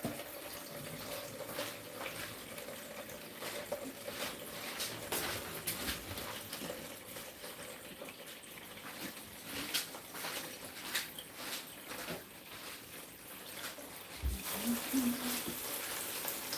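A kitchen tap runs while greens are washed for juice, a faint, steady splashing stream with low pressure, with a person talking over it.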